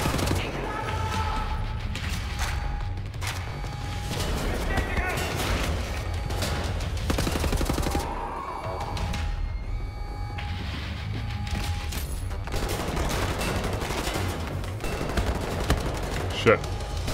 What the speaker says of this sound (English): Let's use the assault rifle real quickly.